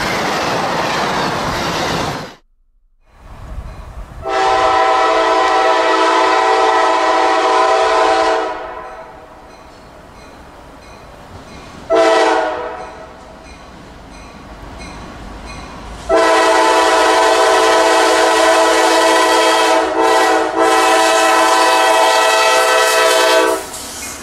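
A freight train sounds a loud, sustained multi-tone horn in several long blasts at a crossing in Lakeland, with rolling wagon rumble and rail clatter continuing underneath and between the blasts.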